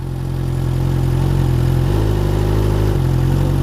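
A Suzuki GSX-R600 motorcycle idles in gear, its steady throbbing engine loud and close, with a brief slight change in pitch partway through and no talking.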